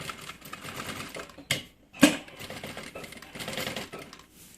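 A sewing machine stitches over a fold on a changing bag that converts into a handbag, running in short bursts separated by brief pauses, with a couple of sharper mechanical clacks between runs.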